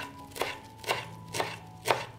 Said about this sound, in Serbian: sada ću iseckati jednu manju vezu svežeg peršuna